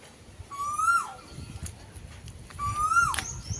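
Two clear rising whistles from an Asian koel perched in a tree, each swelling then falling off sharply, separated by a pause with faint ambient noise between.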